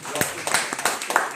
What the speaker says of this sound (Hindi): नईम खान सर के लिए जोरदार तालियां